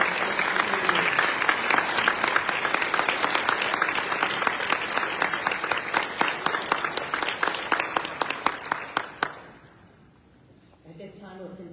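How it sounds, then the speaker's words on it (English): An audience at the opening session of a Florida ALA convention gives the juniors a round of applause, a dense sustained ovation with some voices that thins into a few scattered claps, then drops to quiet room noise. "We have a round of applause for the juniors"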